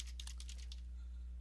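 Quick, faint keystrokes on a computer keyboard, a short burst of typing followed by a pause, with a low electrical hum behind it.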